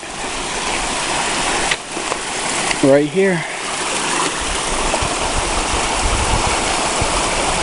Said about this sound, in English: You got the creek